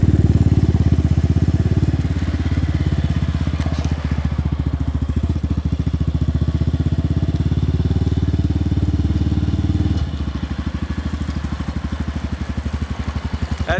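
A Lifan KP Mini motorcycle rides in circles nearby, its engine giving a loud, steady, pulsing putter that lightens slightly for a moment and then continues to the end.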